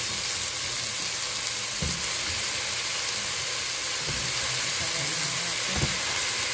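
Chicken adobo sizzling loudly in a pan just after sauce is added, a steady bright hiss with a few soft stirring knocks and scrapes.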